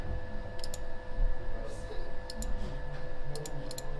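Mouse buttons click while a stool is drawn in SketchUp, sharp little clicks that come in quick pairs and small clusters, close and faint over a steady electrical hum and room noise.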